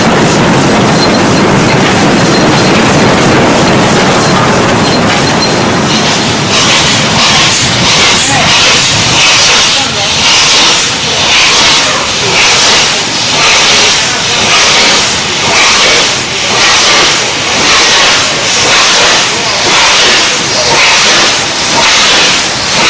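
A steam locomotive hauling the Pondicherry Special on Southern Railway south of Madras, a steady loud rumble of rolling wagons with rhythmic clickety-clack and hiss, continuous and close throughout.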